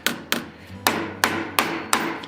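A hammer taps brass rivets down and upsets them, six sharp close metallic strikes in an uneven rhythm, each ringing briefly, with no talk.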